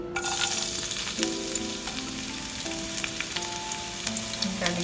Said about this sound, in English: Saute the garlic till it gets cooked a little.